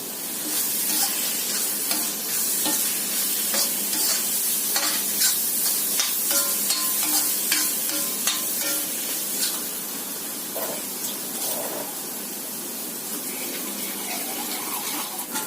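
Onion and spices stir-fried in a pan for stuffed brinjal, a loud continuous sizzle with repeated scraping and clattering of the spoon against the pan.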